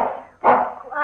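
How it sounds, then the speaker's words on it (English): A dog barks in a short exchange of two close, sharp barks separated by a brief gap, set indoors in a radio drama scene. "Quiet, Skipper."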